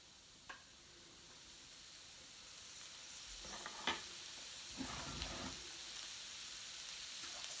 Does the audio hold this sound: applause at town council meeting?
no